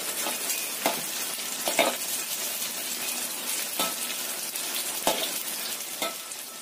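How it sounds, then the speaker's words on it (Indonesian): Tofu fries in oil with a steady sizzle, a few louder bursts and stirring noises breaking through the constant crackle. "Kita goreng sampai kuning keemasan."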